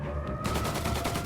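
Gunfire in the crime game Mafia Definitive Edition: after a brief lead-in, a rapid string of evenly spaced automatic shots rattles loudly and close, each crack following the last in quick rhythm.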